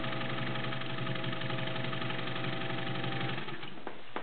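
A vintage Singer 201-2 gear-driven straight-stitch sewing machine runs at a steady speed and switches between forward and reverse, making a continuous mechanical whir with a fast, even rhythm. It is close and fairly loud, with a brief change near the end.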